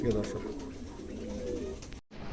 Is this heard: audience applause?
no